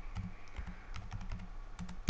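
Computer keyboard keys tapped in a quick irregular burst while entering a name in Illustrator, close and clear, ending with one louder keystroke.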